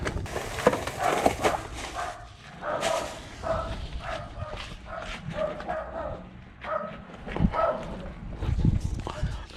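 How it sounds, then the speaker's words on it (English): Dogs bark and yip repeatedly from behind a door at a delivery stop, loud and agitated, mixed with footsteps and some background voices. "So dogs barking, that's one reason people don't like you knocking, because their dogs will go nuts."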